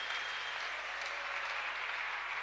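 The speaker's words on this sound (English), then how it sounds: "If somebody is clapping, we should all clap." Church congregation applauding at an overnight youth service, a steady dense wash of clapping from many hands that fills the whole stretch without a break.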